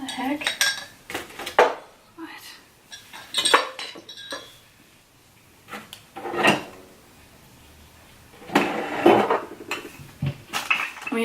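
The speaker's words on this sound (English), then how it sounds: "And this is my pots and pans." Pots and pans clank and clatter in bursts as they are moved around, with metallic clinks and knocks separated by short quiet pauses.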